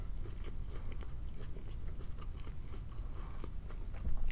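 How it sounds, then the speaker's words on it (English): Close, continuous chewing of a BLT sandwich with bacon, with wet smacking and soft crunching bites in a busy, uneven rhythm, heard with no talk. "I'm having a hard time chewing the bacon too, if you can't tell."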